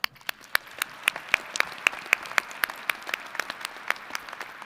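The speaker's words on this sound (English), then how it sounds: "Now please join me in another rousing round of applause in recognition of all our doctoral, law, and medical professional degree candidates." Applause for doctoral, law and medical degree candidates at a University of Wisconsin–Madison winter commencement: a wash of crowd clapping with one nearby clapper striking loud, even, rhythmic claps throughout.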